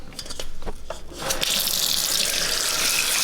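A few light knocks and clinks come first, then tap water gushes in a strong, steady stream, close by and continuous, as it fills a rice cooker pot holding black rice.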